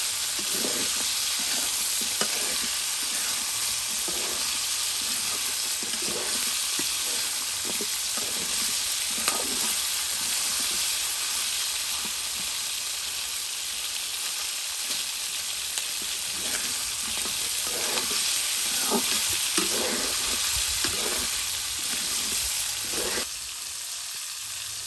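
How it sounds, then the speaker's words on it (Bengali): Chicken feet fry in a pan in a rustic village kitchen, making a loud continuous sizzle and hiss with rhythmic scraping stirs throughout, close up and without talk. "পাওগুলো একদম সুন্দর করে ভেজে নিয়ে"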